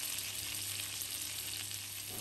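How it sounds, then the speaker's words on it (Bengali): Garlic cloves and fish fry together in a pan, giving a steady, dense sizzle that holds at an even level throughout, close and continuous, with no voices. "রসুনটাকে আমি মাছের সাথে একসাথে ভেজে নিচ্ছি"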